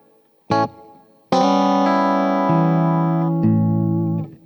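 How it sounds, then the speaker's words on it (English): Electric guitar with a touch of reverb through a Blug Stereo amp and Mooer Ocean Machine, a brief plucked note followed by a long sustained chord with subtle changes, ringing out loud before fading. "And a little bit of reverb"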